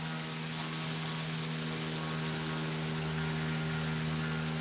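Saw blade spinning steadily, a constant humming whine with a mechanical buzz that stays even and unbroken throughout, with no voices.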